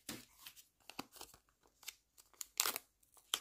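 A paper surprise packet is torn open by hand, a string of short crisp rips and crinkles in uneven bursts, close and alone.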